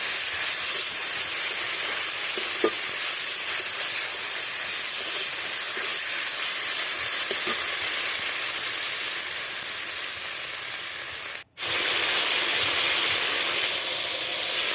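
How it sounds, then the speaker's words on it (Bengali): Spices fry in a pan for a meatless fish-style curry, giving off a loud, continuous sizzle and hiss close by, with a momentary dropout near the end. "দিয়ে আমি মশলাগুলো কষিয়ে নেব"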